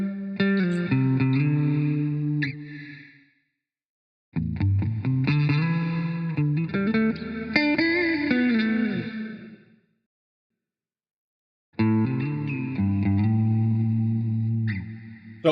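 Bass through an effects plugin with the high end cut near 8 kHz and the low end trimmed comes in three separate phrases, with distorted, chorused notes separated by short silences.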